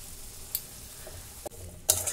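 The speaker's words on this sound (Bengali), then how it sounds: "জল দিয়ে মশলাটা ভালো করে কষে নিলাম" Masala for Bengali ghugni frying in a pan with a little water, faint sizzling under scattered scraping stirs of a spoon, quiet and close, with no voices.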